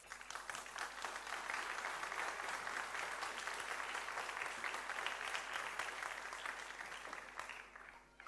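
An audience claps steadily as performers come on stage at a concert, a dense and even wash of applause that holds for several seconds before it thins out and stops.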